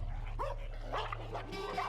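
Dogs bark in short, sharp bursts at a Tibetan blue bear on the plateau, about three yapping barks in under two seconds, close and loud over a low steady background hum.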